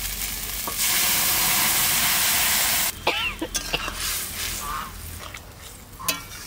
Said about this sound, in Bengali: সামান্য দিলাম তেলটা, জিরে আর এই যে বাটা মশলাটা, এটা ঢেলে দিচ্ছি